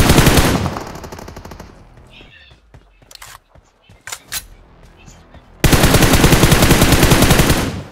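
Dense automatic gunfire bursts from PUBG Mobile (BGMI) gameplay, loud and continuous at the start and again near the end, with quieter scattered shots, clicks and faint game sounds in between.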